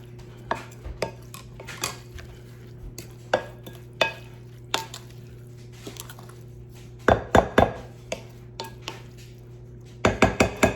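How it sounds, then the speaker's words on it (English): Skillet corn salad with pickled red onions being tossed in a bowl, a quiet run of scattered clinks and scrapes from the utensils, with a few louder clusters of knocks toward the end and no talking. "So we're just gonna toss it just like that."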